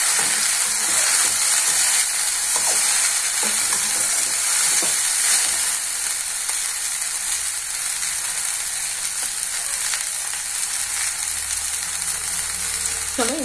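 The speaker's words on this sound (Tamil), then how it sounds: "நான் ஹை ஃப்ளேம்ல வச்சிருக்கேன். அப்பப்போ கொஞ்சமா நம்ம கிளறி விட்டுக்கணும்." Okra sizzles and fries hard in a pan over a high flame for a South Indian okra fry, with a steady bright hiss and occasional scrapes of stirring throughout, no voices.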